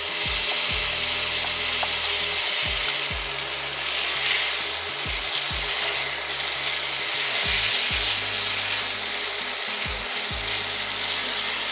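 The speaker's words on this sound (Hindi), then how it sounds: "थोड़ा सा ऑयल डालना है और मैंने जो ये पनीर मैरिनेट किया है वो उसमें मैं सौते करूँगी" Marinated paneer pieces sauté in hot oil in a pan, a steady loud sizzle with frying crackle running throughout, broken by a few soft stirring knocks.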